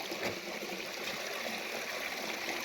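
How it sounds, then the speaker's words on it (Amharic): Flowing stream water rushes and trickles steadily and close by where a blanket is being washed in the countryside, a continuous bright watery hiss with no voices. "ይሄው ብርድ ልብሳችንን ውሃው ሳያልቅብን ብርድ ልብስ እያጠብን ነው ማለት ነው።"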